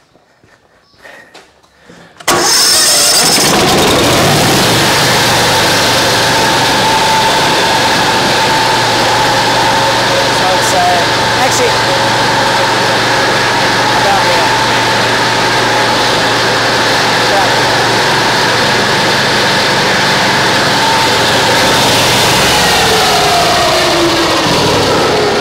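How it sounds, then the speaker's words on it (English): An automated sawmill carriage's small engine starts up and runs loudly and steadily as the carriage drives along, a constant close drone with no pauses. "I'll drive the carriage down to where it needs to be"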